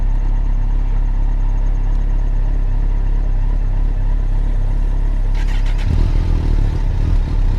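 A motorcycle engine runs loud and steady nearby on a road trip, holding a low idle and then rising in a brief rev toward the end.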